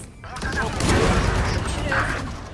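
Dense bursts of rapid gunfire from an online shooter game crackle loudly and continuously for a couple of seconds, with a voice talking over the shooting.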